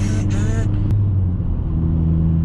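A Honda Civic engine with short gearing, revving toward a 7,000 rpm redline, its steady low drone running through the clip; a voice is faintly present early on.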